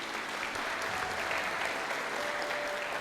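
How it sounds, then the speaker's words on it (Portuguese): Church congregation applauding at an evening service, a dense, steady wash of clapping from many hands that holds at an even level throughout with no voices over it. "Vamos aplaudir a Jesus."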